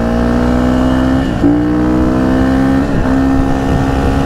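Husqvarna FC250 dirt bike engine holding high RPM at around 41 to 45 mph, a loud, steady buzzing drone with brief dips where the pitch drops and climbs back, close and continuous with no talking.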